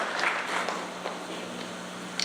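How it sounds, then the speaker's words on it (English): An audience at the St. Kitts-Nevis Customs 60th anniversary event applauds in a dense, continuous patter that thins out and fades toward the end. "Let's give the Customs and Excise a round of applause for being the global leader."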